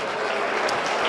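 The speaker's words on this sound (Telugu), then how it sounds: "అందరు గట్టిగా చప్పట్లు కొట్టి ప్రభు కృతజ్ఞత స్తుతులు చెల్లిద్దాం" A church congregation claps loudly and steadily during a praise service, a dense unbroken patter of many hands with no voices.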